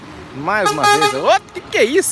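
A bus at São Paulo's Tietê bus terminal sounds a loud musical multi-tone horn in rising and falling bursts, close by, while someone talks excitedly over it.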